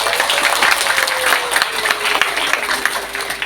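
Dense, sustained applause from a large audience at an Islamic religious lecture gathering, steady clapping filling the whole stretch without pause.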